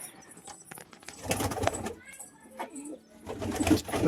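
Several pigeons coo in a loft, soft throaty calls recurring in bursts over about four seconds, with rustling, shuffling and occasional nearby talk.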